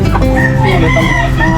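Rhode Island chickens cluck loudly and close in a short burst of overlapping calls in a farmyard where eggs are being collected.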